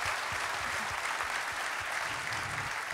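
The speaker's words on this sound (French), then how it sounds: "je pense qu'on peut aussi te dire merci et t'applaudir" An audience at a company event applauds in an even, sustained wash of clapping, fairly quiet and distant, with individual hand claps faintly audible in the mix throughout.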